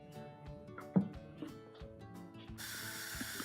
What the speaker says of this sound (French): vous entendez aussi la réaction chimique